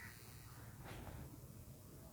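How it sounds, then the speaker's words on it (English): A crow caws faintly in the distance, a couple of calls heard through steady rainfall on a foggy, cloudy day in Murree. "Oh yes, my little crow."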